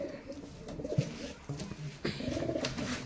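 Pigeons coo softly in a pigeon loft, several low throaty calls at close range, with faint background noise between them.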